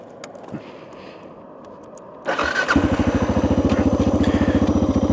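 A Suzuki DR650 motorcycle fitted with an Acerbis 5.3-gallon gas tank fires up after a quiet stretch, then settles into a loud, steady, rhythmic single-cylinder engine pulse close by.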